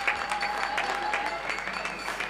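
Steady applause from many hands clapping at a distance, a soft, even patter with no voices over it.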